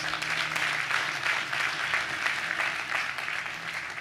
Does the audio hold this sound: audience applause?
yes